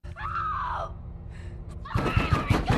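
A girl screams in a dramatic horror film scene, a long high wailing cry that bends downward, followed by a burst of loud crashing and shattering noise with heavy low rumble.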